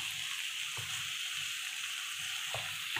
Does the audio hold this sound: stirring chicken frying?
yes